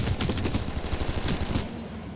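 Rapid burst of automatic gunfire in the video game Titanfall 2, dense and fast, firing continuously for over a second and a half before cutting off.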